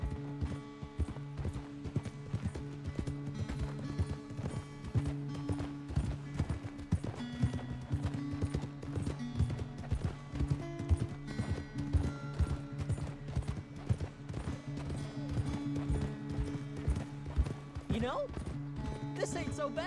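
A horse gallops in Red Dead Redemption 2 with rapid, continuous hoofbeats under a droning tonal background. People talk throughout and a brief whinny-like sound comes near the end.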